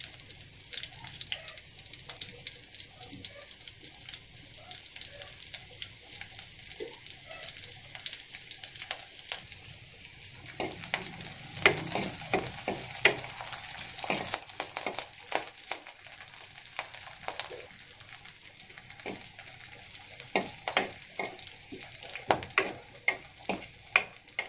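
Soft, continuous sizzling and crackling of onions, curry leaves and coriander frying in hot oil, with scattered pops and faint clinks throughout.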